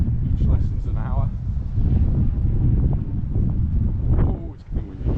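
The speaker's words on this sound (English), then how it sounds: "Oh, it's getting windy." Outdoors in Palmanova, Mallorca, gusty wind buffets the microphone in a constant low rumble, while someone talks throughout over the roar.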